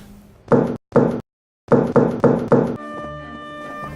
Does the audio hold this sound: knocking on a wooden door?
yes